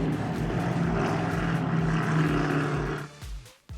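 Loud roaring powerboat racing engines, Mercury Racing 1350s, throb past at close range during the Key West Poker Run, a deep pulsing drone that stays strong and then drops away abruptly near the end.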